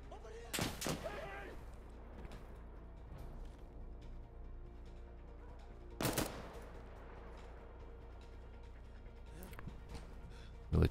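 Gunfire in the video game Insurgency: Sandstorm, with two loud bursts of shots early and midway and a final burst at the end, set over a steady low battlefield rumble and scattered distant reports.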